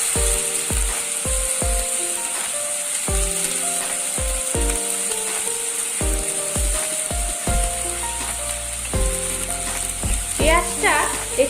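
Onion paste for chicken bharta fries in a pan, a bright continuous sizzle under loud rhythmic music with a few stirring clatters near the end.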